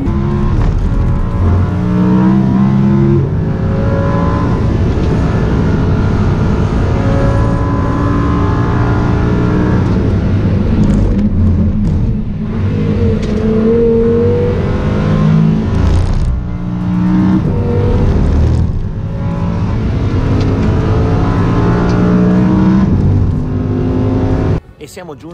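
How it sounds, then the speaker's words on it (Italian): An Audi R8 on SportContact 7 tyres, driven hard by a professional driver around the Portimao race track. The engine roars steadily throughout, with gear changes and revving. People talk over the engine from inside the car. "Saliremo su un Audi R8 con un pilota professionista che ci permetterà di assaggiare davvero al limite i nuovi pneumatici Sport Contact 7"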